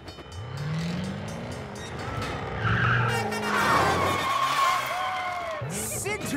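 Animated car spinning in a full circle in a Thomas & Friends film scene, with squealing tire skids and a revving engine that swell and fade amid excited voices.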